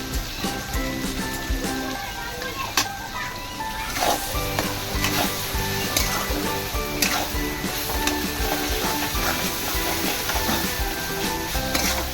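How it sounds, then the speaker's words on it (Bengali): Mutton sautés in a pan with turmeric and cumin powder, giving a loud, constant sizzle. Repeated stirring scrapes and occasional clinks of the pot come through close up, with no talk. "হলুদ একটু জিরে গুঁড়ো একসাথে দিয়ে ভালো করে কষে নিতে হবে"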